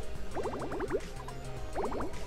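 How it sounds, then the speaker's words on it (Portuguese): Water drips in the colony-building game Oxygen Not Included as hot water mixes with cold: quick bursts of bright, bubbly plinks in two clusters, quiet and close, with a soft game hum underneath. "Tá pingando agora."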